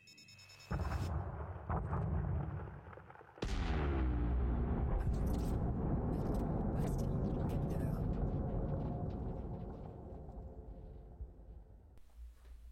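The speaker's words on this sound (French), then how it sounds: "ça fait une belle explosion quand même" An asteroid core is blasted apart in the space game Elite Dangerous: a first rumbling burst, then a huge booming explosion that roars and crackles for several seconds before slowly fading.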